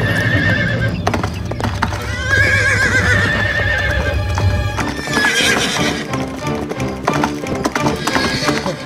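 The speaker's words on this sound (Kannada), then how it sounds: "ನಡಿ, ನನ್ನ ಕುದುರೆ ಟುಕ್ ಟುಕ್ ಟುಕ್" A horse trots with rapid, steady clip-clopping hooves and lets out whinnies, close and prominent, with people talking over it.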